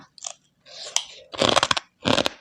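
Crispy pork rind being chewed close up, several crunchy bites in quick bursts with short pauses between them, no talking.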